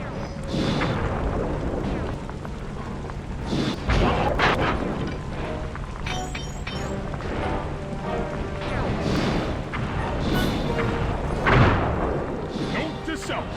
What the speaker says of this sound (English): Avoid explosion.